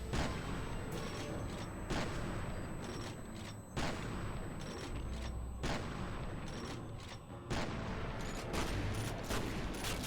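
Grenade launcher and heavy gunfire in the shooter game F.E.A.R. Perseus Mandate, dense continuous loud bursts and booms with brief dips, no speech over it.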